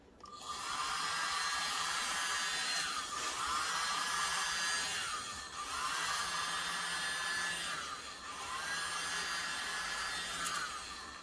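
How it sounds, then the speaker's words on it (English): A small mini leaf blower whirs steadily over wet paint with a high airy hiss, cycling on in three long bursts with brief dips between them. "All right, using the little mini leaf blower."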